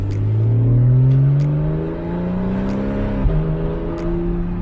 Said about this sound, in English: Now that I've given it a little bit of throttle there, it is holding the gear.